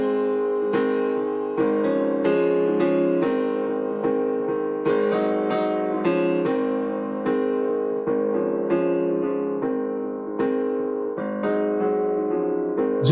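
Song with piano chords and sung vocals, a steady, full-sounding passage of bouncing piano rhythm carrying a melodic voice for about thirteen seconds.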